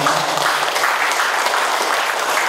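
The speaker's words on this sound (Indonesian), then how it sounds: "Mungkin tepuk tangan dulu buat Bapak Ibu semua." Loud, close applause from an audience at a neighborhood visit by officials, a dense continuous patter of many hands that holds steady for the whole short stretch.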